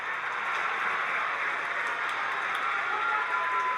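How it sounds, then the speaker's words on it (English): Home crowd roaring at a basketball sectional championship game after a made long two, a steady loud wash of cheering and applause that holds throughout without a break. "Listen to this crowd."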